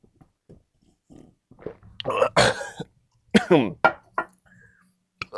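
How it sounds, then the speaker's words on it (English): Coughing fits from a person who has inhaled water while drinking, several sharp loud bursts close up after quieter breathy sounds at the start. "inhaling the water and coughing everywhere after drinking"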